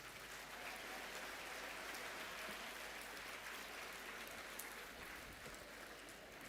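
A group of people clapping to welcome each other at a school session, with a faint, steady patter of many hands that continues throughout and sounds somewhat distant.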